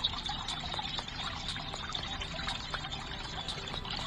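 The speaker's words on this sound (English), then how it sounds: "That's going to allow the water to flow that way." Water flowing through fountain pipes in Flow Water 3D Fountain Puzzle: a faint, continuous trickle and dribble with light, regularly spaced drips and splashes, no speech.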